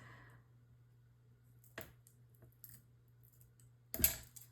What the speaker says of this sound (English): I'm just going to cut enough of these